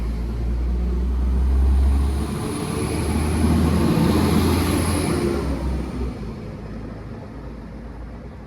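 An Avanti West Coast Class 390 train passes on a diverted run on the Manchester Airport line. A loud, close roar swells and fades with a high whine sliding across it, then a steady rumble trails off.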